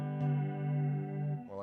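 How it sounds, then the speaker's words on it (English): Electric guitar through a waterfall chorus effect pedal, a single sustained note shimmering with a swirling, wavering chorus for under two seconds, loud and close with no voice. "This one right here is their waterfall chorus."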